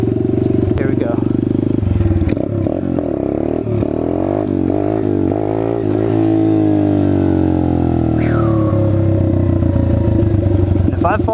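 Chinese dirt bike engine held at full throttle for a wheelie, a loud continuous revving drone with shifting pitch over the full length, a rider's voice talking over it.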